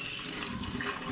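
Hot boiled water pouring steadily from a container, a continuous close gushing splash with no talk.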